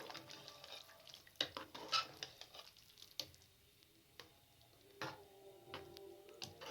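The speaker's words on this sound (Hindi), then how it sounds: "इस तरीके से तमाम चीज़ों को अच्छे तरीके से मिक्स कर लें।" Boiled red lobia beans are stirred into masala in a pan, giving faint scraping, light clinks of a spoon against the pan and soft sizzling in irregular strokes, close and quiet.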